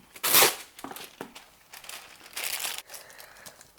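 Baking paper crinkles and rustles as it is pressed into a 9-inch cake pan, with a loud crumpling burst near the start followed by softer, intermittent crinkles close by.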